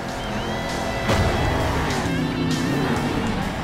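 Monster truck engine roaring in the Monster Jam Steel Titans video game, a loud continuous growl with revving swells and a harder surge about a second in.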